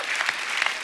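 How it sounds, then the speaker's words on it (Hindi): Studio audience of a comedy talk show bursts into brief, dense applause, a loud, steady wash of many hands clapping with no talk over it. "तालियां, तालियां।"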